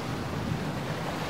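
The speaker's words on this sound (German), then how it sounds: "Und es rauscht die Brandung und das Meer." Ocean surf in the Gothic 2 mod Odyssee, a steady broadband wash of waves and wind, moderately loud and continuous with no voices.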